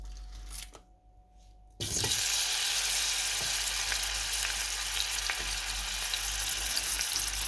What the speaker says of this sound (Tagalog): nilagyan ko ng sibuyas at saka ahos